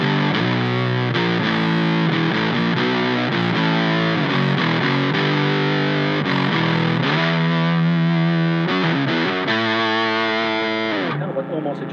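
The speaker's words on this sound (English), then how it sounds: "I do the whammy on the octave, press this down, and then I've got like a missing sustain." A Fender Jazzmaster Vintera electric guitar played through a whammy pedal set to octave gives thick, distorted, sustained chords and notes that ring out continuously and loudly, with shifting pitch, before cutting off near the end.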